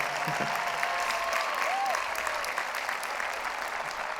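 Steady, dense applause from a big commencement audience carries on without a break, with a faint whistle and scattered cheers mixed into the clapping.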